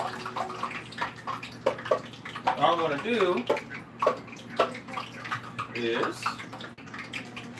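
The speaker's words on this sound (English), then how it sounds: "You toss some water in it and it bubbles up" Hot cooking oil bubbles and sizzles after water is tossed into it, a steady, fizzing crackle running under a person talking.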